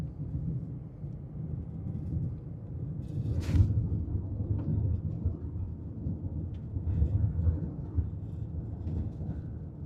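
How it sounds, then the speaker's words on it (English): Thunder from a storm forming to the west in Colorado rolls as a low, steady rumble, with one sharper crack partway through and continuous deep grumbling that swells and fades, heard from a distance with no talking. "We have a beautiful storm forming out to the west right now."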